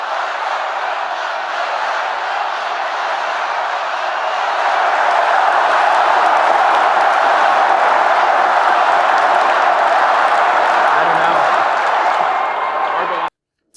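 A large rally crowd roars and cheers in a steady, dense wash of voices, swelling louder partway through and holding at full volume until it cuts off abruptly.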